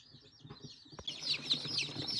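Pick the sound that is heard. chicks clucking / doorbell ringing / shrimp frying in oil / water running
chicks clucking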